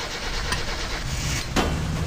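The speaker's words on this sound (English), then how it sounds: "Attempt 2 at starting the car" A car engine in the game My Summer Car turns over and catches, a steady mechanical rumble running throughout with a sharp burst near the end.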